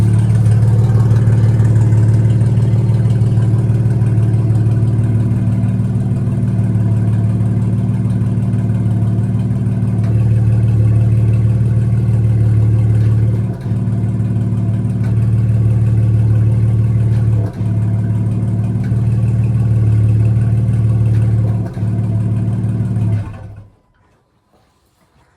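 A BMW G80 M3 Competition engine with the exhaust valves open and a double H pipe, on a cold day, drones loudly and steadily for over twenty seconds, dipping briefly three times before cutting off abruptly.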